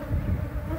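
Honey bees swarm around a hive box during a honey harvest, their steady low buzzing droning continuously and fairly close throughout.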